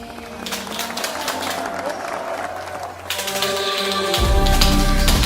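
Applause from a crowd, with dense rapid clapping rising louder toward the end, mixed with music and voices.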